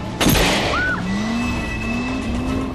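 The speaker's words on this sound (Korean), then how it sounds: "쫓아오는 군인들을 피해 필사적으로 운전하는 로라." In a film chase scene a car is driven desperately while fleeing soldiers, with a sharp burst followed by a loud, close engine roar whose pitch climbs steadily as it accelerates, plus a brief squeal.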